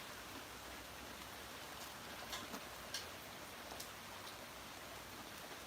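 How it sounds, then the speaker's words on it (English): Rain falling outside, a soft constant hiss heard faintly from indoors with a few light taps and drips scattered over the steady wash. "it's raining out if you can hear it"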